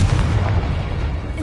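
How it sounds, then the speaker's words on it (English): Confringo spell explosion in Hogwarts Legacy, a brief heavy low boom with rumbling body that fades over about a second. "Confringo."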